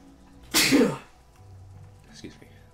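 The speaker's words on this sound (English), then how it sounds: "Sneeze." A single sharp sneeze bursts out loud and close, followed by quiet breathing and a faint throat noise.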